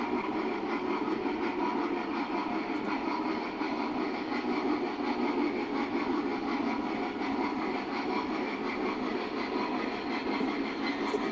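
A continuous whirring, humming rumble of a Freedom Train AC9 model train running steadily along its track, even in level throughout, with no talking.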